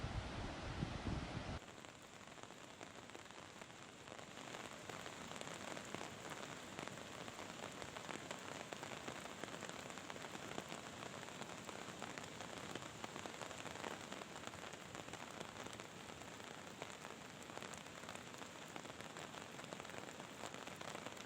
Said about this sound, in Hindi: बारिश भी हो रही है और नदी जो है वो कितनी उफान पर है इस बारिश की वजह से